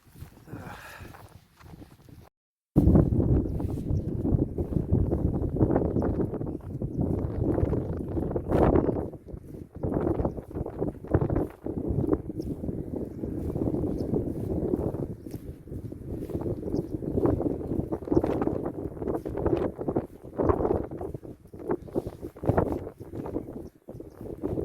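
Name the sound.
blustery wind on a hilltop walk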